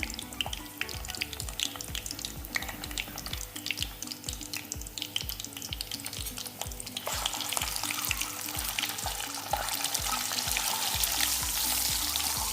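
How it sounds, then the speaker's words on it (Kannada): Egg curry base frying with salt and turmeric in a pan: a busy crackling sizzle under rhythmic scraping strokes of a spoon, close and continuous, the hiss growing brighter in the second half. "ಈಗ ನಾನು ಸ್ವಲ್ಪ ಉಪ್ಪು ಮತ್ತು ಸ್ವಲ್ಪ ಅರಿಶಿಣ ಹಾಕಿ ಫ್ರೈ ಮಾಡ್ಕೊತಾ ಇದ್ದೀನಿ."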